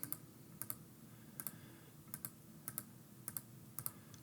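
A computer mouse gives paired, crisp clicks at a steady pace, several double-clicks spread over a few seconds, close and fairly quiet above a low room hum.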